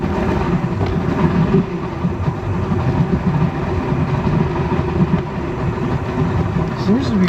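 A Mercury 135hp outboard motor idles steadily, with a low, even, continuous engine drone and no revving or breaks.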